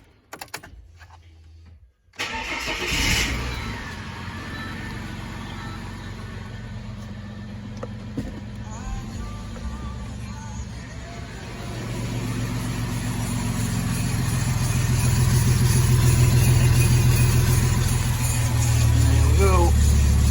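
A Ford AU Falcon engine cranking and firing up after a limited-slip differential install, settling into a steady idle that grows louder and rougher toward the end, with a brief whine near the close.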